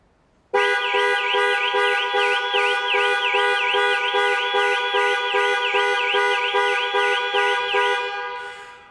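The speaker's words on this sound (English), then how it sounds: "press 3 times in 3 seconds, and the horn will sound and the hazard lights will flash" A Jaguar XE car's panic alarm starts abruptly and blares loudly and continuously with a rapid warbling horn tone, then fades slightly near the end.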